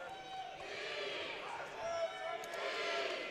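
A crowd at a high school boys' provincial basketball championship in New Brunswick makes a steady, fairly loud wash of cheering and shouting in a gym, with faint squeaks and thumps of play underneath.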